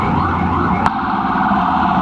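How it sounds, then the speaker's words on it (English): A loud ambulance siren holds a steady blaring tone over constant traffic noise on a busy New York City street. "Always an ambulance, always police siren."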